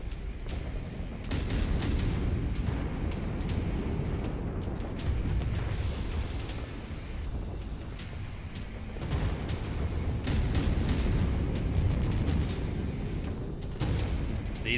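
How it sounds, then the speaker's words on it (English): Anti-air battery explosions in the MechWarrior 5 video game, a dense, continuous rumble of booms and blasts with heavy low-end impacts and no talking. "Anti-air batteries. Just rocking your screen."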